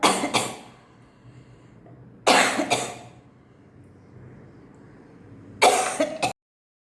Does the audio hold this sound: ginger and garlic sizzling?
no